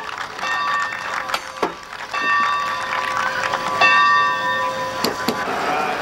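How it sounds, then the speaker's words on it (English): The bell on Santa Fe 3751, a steam locomotive being moved from a park display track, rings in repeated clear metallic strokes at an uneven pace, loud and close against crowd noise. "To the delight of the crowd, the bell on the locomotive was rung"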